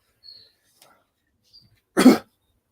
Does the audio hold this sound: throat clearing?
yes